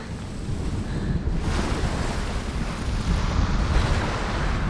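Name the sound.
waves hitting rocks on a beach in Hellblade: Senua's Sacrifice video game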